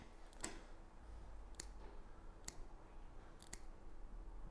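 Scissors clipping a pregnant cat's claws indoors, four crisp separate snips spaced about a second apart over a low steady background hum, with no voices.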